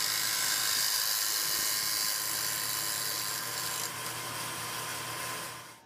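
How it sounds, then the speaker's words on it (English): Angle grinder fitted with a metal cutting blade grinds steadily through a recumbent bike's fork, a loud continuous high whine that eases slightly near the end, with no talk. "I used an angle grinder with a metal blade for that cut, and then followed it up with the angle cut here."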